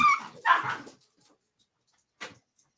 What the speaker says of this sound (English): Is there a dog in the jail?